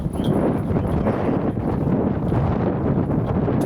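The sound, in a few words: wind howling outdoors on a disc golf course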